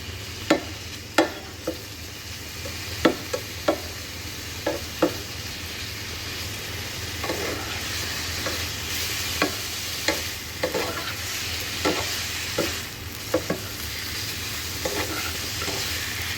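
Chicken frying in a pan, a steady close sizzle with intermittent sharp clicks and scrapes from stirring scattered throughout, no voices.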